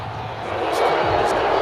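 Video game football stadium crowd, Rams versus Saints, reacting to a roughing penalty flag: a loud, dense roar of many voices that swells and holds steady through the moment.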